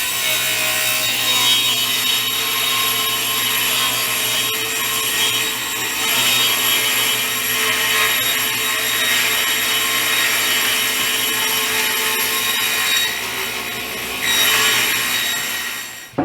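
A kitchen cabinet panel, water damaged and being replaced, is cut with a table saw and a hand saw, with a loud continuous rasping drone and a few surges in intensity across the whole stretch.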